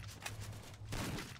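Rapid bursts of gunfire from a Free Fire battle royale match, a continuous fusillade with a louder volley near the end, mid-distance and fairly faint, with no talk over it.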